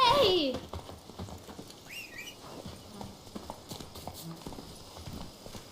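Roach the horse gallops in The Witcher 3, a steady run of rhythmic hoofbeats close by after a brief whistle-like tone at the start.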